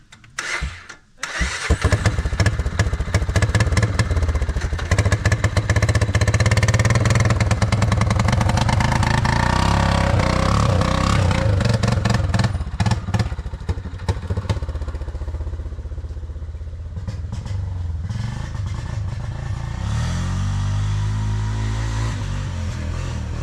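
A motorcycle engine labors in first gear up a steep hill, starting with a sharp catch before a loud, close, continuous drone that runs for about twenty seconds and eases slightly toward the end.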